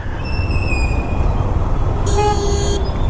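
Vehicle horns honk in Bangalore street traffic, with two sustained horn blasts, the second louder and overlapping, over a constant loud traffic and engine roar heard from a motorcycle.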